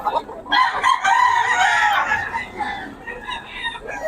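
A Black McRae gamefowl rooster in Bocaue crows close by, one long drawn-out call that rises and trails off, with softer clucking and other birds around it.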